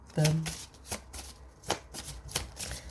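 A deck of oracle cards is shuffled for a reading, a series of soft, quick riffling and flicking bursts close to the microphone, with a faint voice briefly underneath.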